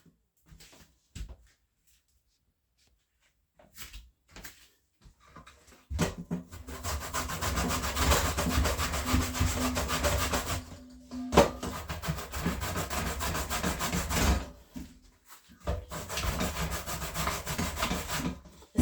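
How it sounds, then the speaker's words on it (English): A sweet potato is grated by hand for Jamaican sweet potato pudding, making loud, rough, rhythmic scraping strokes in long bursts separated by short pauses. "I'll go ahead and finish grating, and I'll come back and show you the finished product"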